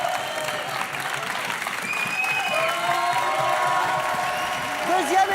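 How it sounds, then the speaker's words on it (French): Studio audience applause at a French late-night comedy show after a contestant is named winner, a steady wash of clapping with some crowd noise and faint voices mixed in, fairly loud throughout. "c'est Jérémy Ferrari, on peut l'applaudir."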